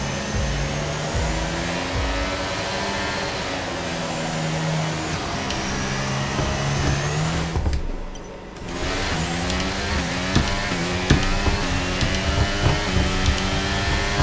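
Formula 1 car engines screaming at a race start in the video game F1 23, a loud dense high-pitched roar of many engines rising in pitch through gear changes, with a brief dip midway.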